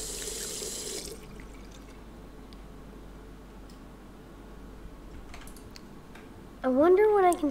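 A hot water tap running into a sink in the Captain Spirit video game, heard as a loud burst of gushing water that stops after about a second, then quiet game ambience and a closing chime.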